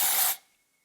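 Aerosol volumizing back-combing hair spray from a Colab Extra Volume can, sprayed onto hair roots: one close, loud hissing burst lasting about a third of a second, then cutting off to near silence.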